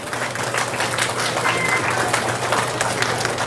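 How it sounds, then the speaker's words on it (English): Dads gathered at a school morning event applauding themselves, a steady wash of group clapping that stays loud and even, with some murmuring voices underneath. "give yourselves a big round of applause for coming out this morning"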